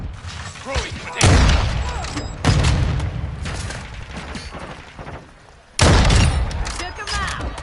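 Explosions in the Modern Warfare 2 shooter game: three heavy, close booms, each decaying into rumble, with mechanical clatter and faint voices between them.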